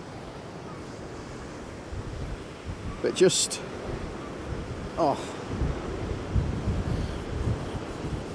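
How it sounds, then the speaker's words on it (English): Ocean waves crash on the shore below old abandoned tin mines, a low continuous roar with wind buffeting the microphone, while someone speaks briefly over it. "every sort of 4 or 5 waves, you just get a massive one"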